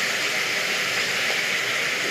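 Ginger garlic paste dropped into chicken frying in a pan gives a steady, loud, broad sizzling hiss that holds evenly throughout, with no talk over it.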